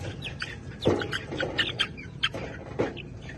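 Young chicks chirp and peep during a weigh-in, giving a scattering of short, close squeaky calls in an irregular rhythm, with a few louder bursts over a low background rumble.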